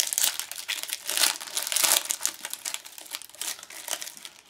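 Crinkling and tearing of foil wrappers as packs of 2015-16 Portfolio hockey trading cards are ripped open, a steady close-up rustle with louder crackling bursts and no talk.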